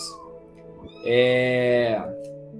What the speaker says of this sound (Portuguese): Minha gatinha tá miando aqui